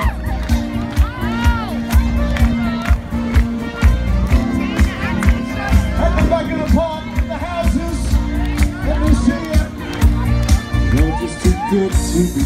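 A large crowd at the Sheffield Pride 2018 main stage in a park cheers, whoops and shouts loudly and continuously, with voices and music mixed through the din.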